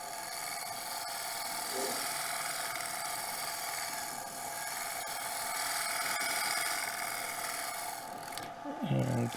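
Sharp gouge blending the wooden surface of a turned bowl on a lathe, a steady close scraping hiss running throughout.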